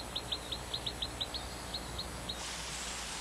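Endemic Taiwanese forest birds, such as the Collared Bush-Robin, give a rapid series of about eleven short, high chirps in a quick regular rhythm. The calls stop partway through and a soft background hiss carries on alone.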